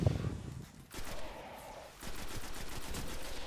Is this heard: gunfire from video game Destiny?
yes